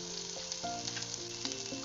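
Eggplant pieces fry in hot oil with a soft, even sizzle and faint stirring, quiet and close, with no voices.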